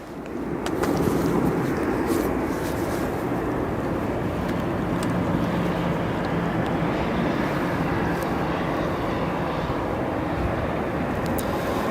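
Aer Lingus airliner at O'Hare International Airport, a steady distant roar of jet engines rolling on with wind buffeting the microphone, no voices.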